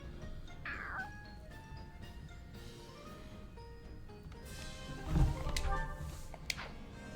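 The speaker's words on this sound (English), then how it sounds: "Look, the kitty cat wants you to snuggle wuggle." Cat meows in the video game Fire Emblem Three Hopes, with a few short mews early on and a louder caterwauling cry near the end, set against soft game ambience.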